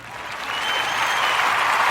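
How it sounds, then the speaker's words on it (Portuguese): An audience claps steadily in a room during a first podcast episode recording, the applause swelling slightly and then holding as a dense, even patter for the whole stretch. "Batem mais um pouquinho de palma,"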